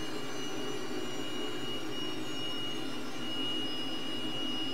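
A T-37 jet's engine in a flight simulator gives a steady, loud, unbroken whine and roar with a thin high tone, with no talking.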